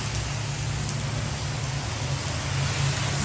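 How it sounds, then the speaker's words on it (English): Heavy rain pours down outside a toy store on a street corner. It makes a dense, even hiss with a low rumble under it, steady throughout and with no talking. "it is raining like crazy."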